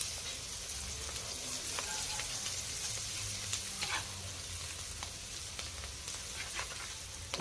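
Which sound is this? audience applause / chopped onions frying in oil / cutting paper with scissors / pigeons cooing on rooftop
chopped onions frying in oil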